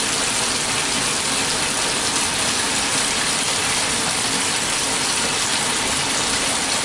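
Running tap water pours continuously into a Laundry Alternative Superpop portable washer, a steady, loud hiss with faint mechanical rattles mixed in, and no talking.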